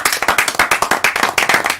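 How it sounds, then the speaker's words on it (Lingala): An audience claps for Werrason, the king of the forest, in fast, dense, rhythmic applause that stays close and loud throughout. "les applaudissements nourris, bien sûr, avec l'assistance"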